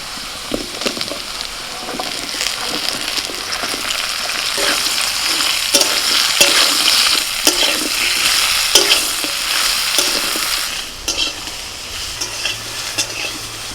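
Chunks of potato, pointed gourd, ridge gourd and eggplant fry in a pan with salt and turmeric, a loud continuous sizzle broken by the scrape and clatter of stirring, no talking.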